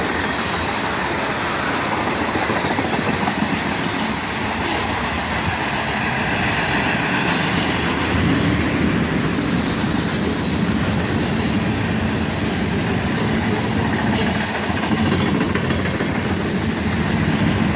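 Freight train rolling steadily past up close with covered hoppers, steel coil cars and a locomotive near the rear, a continuous loud rumble of wheels and cars with no voices.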